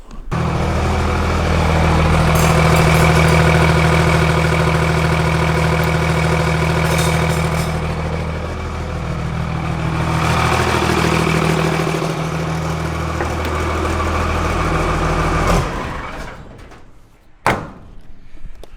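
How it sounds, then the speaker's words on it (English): A heavy Cummins diesel truck engine with compound turbos idles with a deep, steady rumble, close and loud, then trails off near the end with a couple of sharp knocks. "The truck is idling fantastic."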